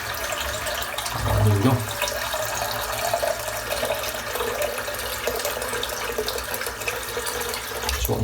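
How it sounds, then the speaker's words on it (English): A bathroom sink drains and is rinsed under a running tap during wet shaving lather preparation, a steady close stream of water with a brief louder splash early on; someone speaks briefly. "Just empty the sink out because this chock is full."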